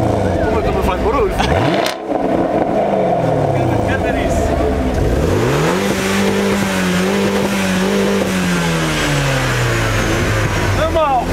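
A car engine revs hard and close, rising and falling in pitch through sweeping acceleration runs, with talk and cheering over it.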